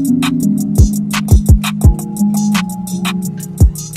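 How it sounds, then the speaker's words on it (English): A chord progression from a sample pack construction kit, sustained mellow chords shifting every half second or so over deep punchy bass-drum hits and light percussive ticks, loud and close, with no talk. "But I just got one chord progression and it sounds like this."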